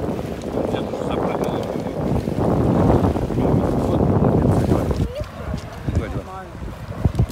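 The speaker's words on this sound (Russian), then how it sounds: "Мне холодно, тут ветер" Steady wind rushing and buffeting the microphone outdoors by the sea in Sochi, with a voice talking underneath.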